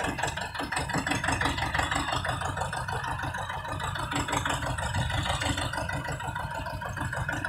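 A TAFE tractor engine runs at idle, a steady close-up rumble with an even, throbbing rhythm that continues without a break.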